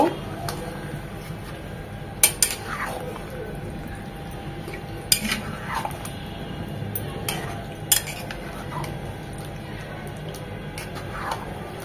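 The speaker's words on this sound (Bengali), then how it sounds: "এখন সব ভালোভাবে মিশিয়ে নেড়ে চেড়ে নেব।" Chicken bhuna being stirred in a pan on low heat with yogurt added, giving soft scraping strokes and a few sharp utensil clinks against the metal over a low background hum.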